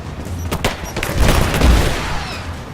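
A grenade blast in the action video game Rise of the Tomb Raider is heard as a cluster of sharp, booming bursts. Rumbling gunfire-like crackle runs through it, loud and close, with no talk over it.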